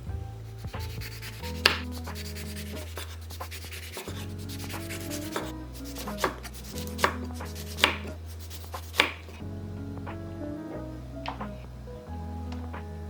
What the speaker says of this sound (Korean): 레몬을 얇게 썰어주세요.